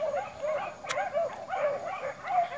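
Beagle hounds bay and bark while running a track, giving repeated ringing, drawn-out cries in a steady rhythm at moderate distance, with outdoor noise underneath and no one talking.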